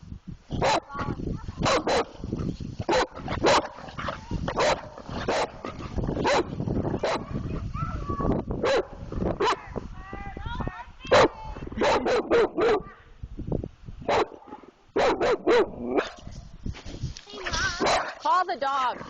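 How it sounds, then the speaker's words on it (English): A dog barks and yips excitedly outdoors in snow the day after a blizzard, rapid bursts of close barks with whimpers in between, while people talk and call over it. "Call the dog."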